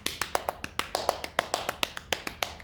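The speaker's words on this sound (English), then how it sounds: "Can you help me scare the cat away with claps?" Quick, evenly spaced claps, about fifteen sharp, close hand strikes in a steady rhythm, made to scare a cat away during a children's storytime.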